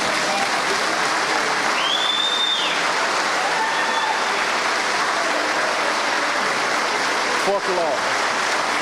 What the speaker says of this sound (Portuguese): Vamos bater com muita vontade de palmas para esses três em pé,